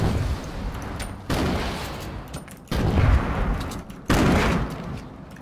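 Explosions go off in a Fortnite Battle Royale match as bombs are thrown at the player, three loud booming blasts a little over a second apart, each decaying into rumbling game noise.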